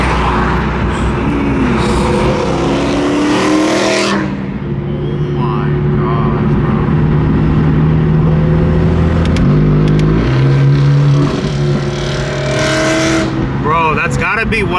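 A BMW E92 with an aftermarket exhaust revs loudly and steadily, its engine note rising and falling in a continuous, close roar while people talk over it.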